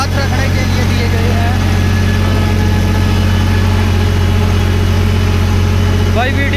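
A New Holland 3630 tractor fitted with an 8-foot rotavator runs with a steady, loud low engine drone and constant vibration throughout, while a voice talks over it.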